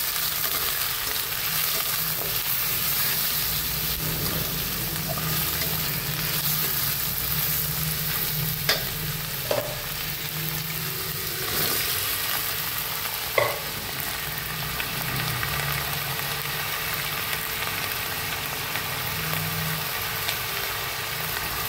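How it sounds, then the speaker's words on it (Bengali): Flat beans fry and are stirred with ginger and onion paste and ground cumin and coriander, giving a steady sizzle with occasional utensil knocks over a low background hum. "আর একটু শিমটাও দিয়ে দিলাম, একটু নাড়াচাড়া করে এবার বাটা মশলাগুলো দিয়ে দেবো"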